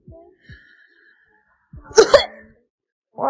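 A single sharp sneeze bursts out after a couple of faint, soft sounds, followed by a brief pause and a short voice at the end.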